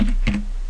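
Keys clatter on a computer keyboard in a brief burst of a few quick close taps while a nickname is typed, with no talk.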